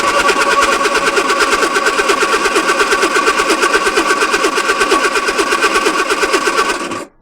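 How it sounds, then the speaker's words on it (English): A Lotus Twin Cam engine with its fuel rail disconnected cranks over on the starter, giving a loud, close, rapid rhythmic churn that holds steady for about seven seconds before cutting off. "let's turn the engine over now and see what happens"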